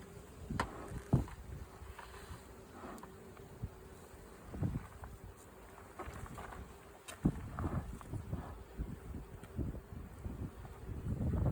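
Honey bees buzz steadily around an open hive during an inspection, a faint continuous drone broken by soft knocks and handling noises, with light wind in the microphone.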